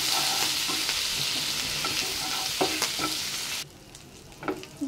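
Garlic ginger paste frying in a little oil in a pan, a steady hiss with scattered crackles and scrapes of stirring, close and continuous, dropping abruptly quieter near the end.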